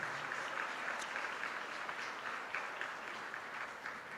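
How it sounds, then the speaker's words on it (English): An audience at a book launch and award ceremony applauds, a sustained, fairly distant and even wash of clapping with no talking. "Give that another clap."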